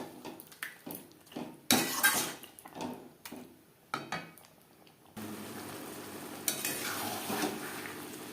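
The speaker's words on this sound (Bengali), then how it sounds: "পেঁয়াজ টমেটোর সাথে বেশ ভালো করে মিক্স করে দেব।" Marinated chicken is stirred with onion and tomato in a pan, a metal spoon clattering and scraping in uneven strokes, followed by a steady soft sizzle from the pan.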